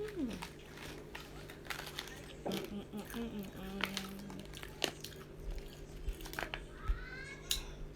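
Crunchy potato-crisp-style snack with a brulee flavour being chewed, with sharp crackling bites scattered across the clip under a steady hum and occasional speech nearby.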